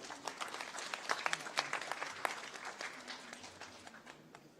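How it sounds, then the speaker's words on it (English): An audience gives applause during an MOU signing ceremony, a steady patter of many hands clapping at moderate distance that gradually fades toward the end. "Let's have a huge round of applause,"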